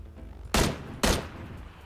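Two sharp gunshots about half a second apart ring out in a shooter video game match at Sosnovka, each a loud broadband crack standing out over low background ambience, with no talk.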